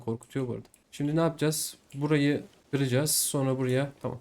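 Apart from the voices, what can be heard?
No everyday noise stands out behind the speech.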